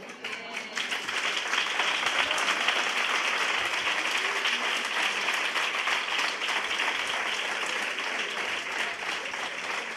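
An audience gives sustained applause after a talk on coeducation, a dense, steady wash of many hands clapping that lasts the full ten seconds, fairly loud and without talk over it.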